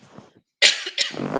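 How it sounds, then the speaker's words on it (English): After a few quiet murmurs, a person coughs twice in quick succession, harsh and close. "I have to cough"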